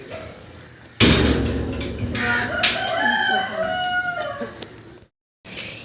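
A rooster crows loudly nearby among chickens, its long drawn-out call followed by clucking, with a brief silence near the end.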